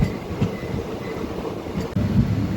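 A passenger train on the Keshod–Bhavnagar route in Gujarat, India, rumbles along between Khijadiya Junction and Lathi station with low, rolling wheel noise and faint rhythmic clatter, steady and fairly close, with no talking.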